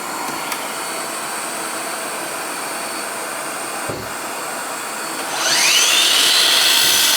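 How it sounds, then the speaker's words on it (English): A wet/dry shop vac runs steadily in a woodworking space, a constant broadband whoosh that swells louder and brighter near the end as another motor spins up alongside it. "I'm going to turn on the wet dry vac"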